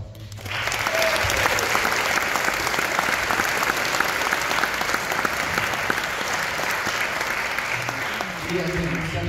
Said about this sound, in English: So how about a big round of applause for these students?